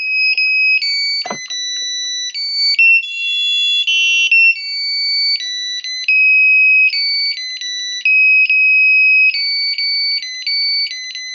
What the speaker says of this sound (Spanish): El sonido, a pesar de que este es un pequeño buzzer, es potente